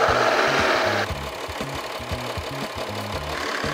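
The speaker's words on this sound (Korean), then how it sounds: "자, 한번 시동 걸어봅시다. 지금 막 시동 걸었으니까 문제가 보이진 않을 거고 악셀을 밟어." A car engine idles just after starting, with a steady rhythmic knocking pulse and a strong, loud rev in the first second that drops back to idle; a mechanic is testing a coolant-loss fault.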